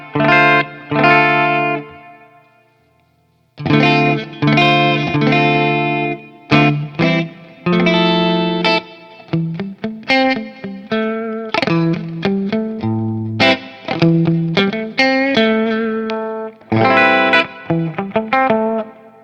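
Squier Stratocaster electric guitar played through the bridge pickup with distortion and effects, strumming loud, bright chords and choppy riffs in bursts with short pauses, close and alone with no talking.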